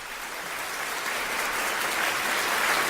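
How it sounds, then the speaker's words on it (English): Added applause sound effect for a mock presidential candidate's speech: a dense, steady wash of clapping from a crowd that swells slightly louder over three seconds, with no voices. "We're going to put in some applause and some reverb."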